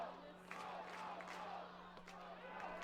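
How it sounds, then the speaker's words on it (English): Baseball crowd chanting together at a finals game between the Regina Red Sox and Sylvan Lake Gulls in Sylvan Lake, a steady, dense roar of many voices with a few sharper shouts over a constant electrical hum. "Crowd chanting, trying to keep Lewis alive here."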